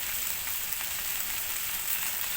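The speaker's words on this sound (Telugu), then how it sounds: "అల్లం వెల్లుల్లి హై ఫ్లేమ్లోనే ఉంచి ఒక 30 to 1 మినిట్ ఫ్రై అయిన తర్వాత" Ginger garlic paste fries on a high flame for a prawn and brinjal curry, giving a steady, dense sizzle that hisses evenly throughout without a break.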